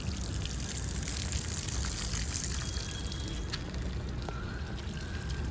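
Water draining out through holes in a vermicompost bucket, a continuous close trickling and pattering with no voices.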